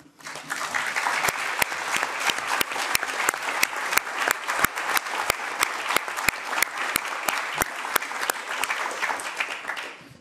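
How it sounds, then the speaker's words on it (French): An audience applauds a female guest at a talk event, with dense, steady clapping and sharp individual claps standing out, sustained loudly for about ten seconds. "On peut déjà tous l'applaudir."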